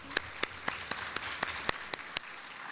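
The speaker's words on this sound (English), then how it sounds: "And a big applause again for you." Sparse, thinning applause from a conference audience at the close of a keynote session: about a dozen distinct claps spaced fairly evenly, moderately faint in a room.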